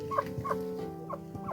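Village chickens cluck in short, separate bursts for a moment, quiet and moderately close, with no talking.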